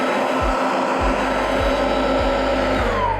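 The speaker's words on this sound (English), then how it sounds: "I'm just gonna turn the vacuum on and I'm gonna lower it" A Riccar vacuum cleaner runs loud and steady with a constant motor whine and airflow roar, while a series of low thumps recur about every half second throughout.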